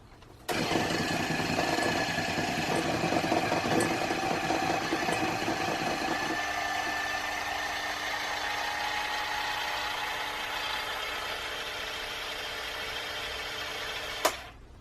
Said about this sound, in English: And now we're going to mix one final time for good luck.